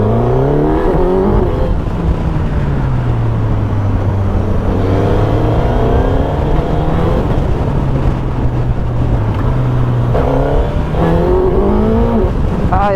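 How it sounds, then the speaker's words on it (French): A Suzuki GSX-S1000GX motorcycle engine revs hard and loud, rising and falling in pitch over a sustained drone, close up throughout. "Ça fait vraiment plus de bruit les motos maintenant, c'est dingue."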